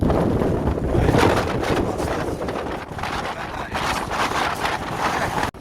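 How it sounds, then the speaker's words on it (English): Heavy wind during Storm Ashley at Blea Tarn roars and gusts against the microphone, a loud continuous rush that swells and dips, with no talking. "it's bloody windy up here, I've been getting blown about everywhere"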